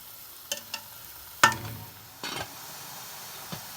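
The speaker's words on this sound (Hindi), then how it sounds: "इसको भून लेंगे।" Minced meat keema frying in a pan, a faint low sizzle under a handful of sharp scrapes and clinks from a stirring spoon against the pan.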